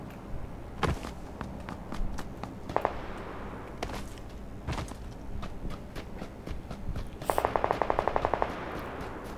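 Thompson gun fire in PUBG, bursts of rapid shots scattered through the clip and one fast rattling burst near the end, mixed with footstep-like thuds and sparse quiet talk.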